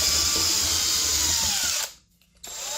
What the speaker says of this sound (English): We have to drill a hole through here over to here